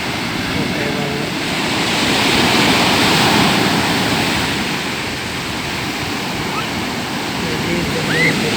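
Waves from the sea pushing into a river mouth in a light breeze, a continuous rushing wash that builds and subsides over several seconds, close and steady.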